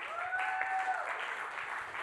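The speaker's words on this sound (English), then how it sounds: "Come on, stand up and clap real strong." A church congregation at a preaching service stands and claps their hands, producing a steady wash of applause throughout, with a sustained tone from music or feedback under it.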